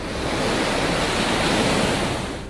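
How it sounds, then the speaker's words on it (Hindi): Big ocean waves churned up by Cyclone Biparjoy off the Gujarat coast, a loud, continuous roaring wash of surf with heavy wind noise and no voices. "समंदर में उठ रही बड़ी लहरें और भारी बारिश ने पूरे देश को दहशत से भर दिया है"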